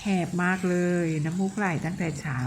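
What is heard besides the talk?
No everyday noises stand out.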